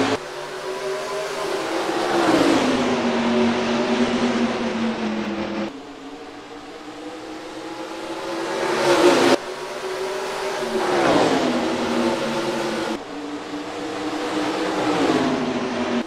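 Race cars in NASCAR Racing 2003 take the green flag for the Target 400 at Richmond, loud engine roar rising and falling through repeated gear shifts as the pack accelerates together.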